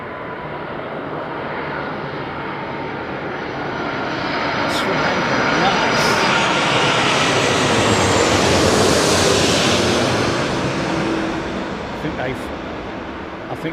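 An airliner comes in to land behind an Airbus A380, its engine roar swelling steadily to a loud, broad peak as it passes close overhead and then slowly fading, with no talking.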